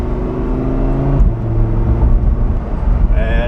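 A 2016 Lamborghini Huracan Spyder engine growls while driving, a loud close rumbling drone with shifting revs, overlaid with wind and road noise.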